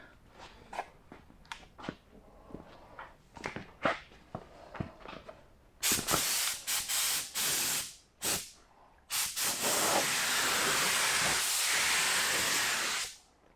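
A spray gun spraying paint on a 1969 Camaro hisses in bursts, first short quiet puffs and then longer loud sustained blasts of hissing spray, close by with no talking.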